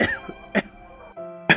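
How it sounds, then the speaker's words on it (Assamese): A few separate coughs, close and fairly loud, in short bursts with quiet gaps between them and a faint tonal sound under the middle stretch; no speech. "এই অলপ কাহ ধৰিছিলে"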